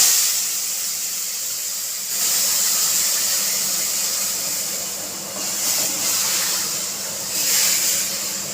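Chicken pieces go into a hot pan with cumin, setting off a strong, hissing sizzle that swells in a few surges and stays loud and steady.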